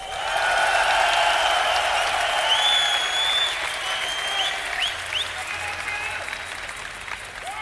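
Esports crowd at a StarCraft semifinal tournament roars with sustained cheering and applause, loud and dense throughout, with scattered whistles and shouts rising above it before gradually thinning toward the end.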